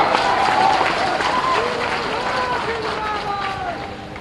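Steady applause and crowd noise at a political rally in Bihar, Ravi Shankar Prasad's event, a dense continuous clapping wash with scattered whistles and cheers that gradually softens toward the end.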